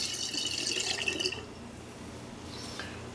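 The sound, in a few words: pouring hydrated yeast into ginger beer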